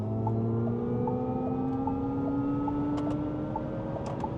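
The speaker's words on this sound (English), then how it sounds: "Let's use that overtake button now and see what it's like." Alpine A290 electric hot hatch accelerating hard on the overtake boost, a steady rising electric motor whine over constant road and wind roar heard from inside the cabin.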